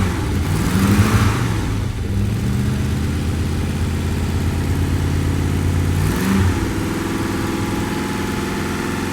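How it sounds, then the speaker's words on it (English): A Triumph Stag V8 engine with a slight exhaust manifold blow idles loud and close, rising into a couple of revs that climb in pitch and then settle back to a steady idle. "Just see if I can rev it."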